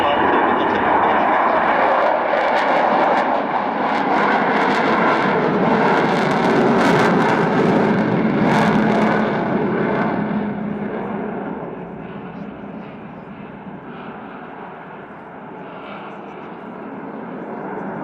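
The Avro Vulcan XH558 bomber flies over the Duxford Airshow, its engines a loud broad roar that builds and then slowly fades as it passes, with a commentator's voice partly over it.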